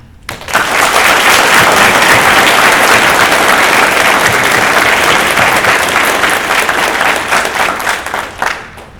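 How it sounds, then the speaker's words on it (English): Sustained, loud applause from an audience honoring JROTC cadets and staff at a Change of Command ceremony, a dense wash of clapping that swells in quickly, holds steady for several seconds, then tapers off. "please join me in a round of applause for all the hardworking and talented cadets of our unit and"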